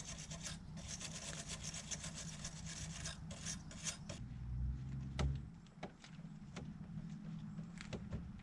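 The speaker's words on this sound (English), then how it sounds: "I'm gonna use wire brush to clean up the surface" A wire brush scrubs rusty bolts on the anti-roll bar link of a Peugeot 307, a steady close rasping scrape that keeps on through the whole stretch, with a few louder knocks partway through.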